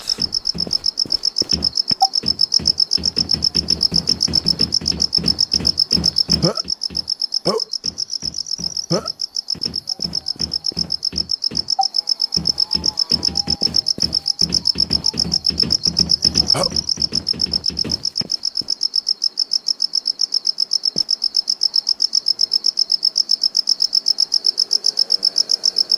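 Crickets chirp steadily throughout a scene in the video game Infestation, a dense continuous high trill with game sounds and rumble beneath that drop away near the end, leaving the chirping alone.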